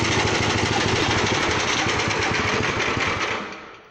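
A fish feed pellet grinding machine runs steadily and loudly, a dense mechanical engine-like drone with rapid vibration that holds for nearly four seconds before easing slightly at the end; no one speaks.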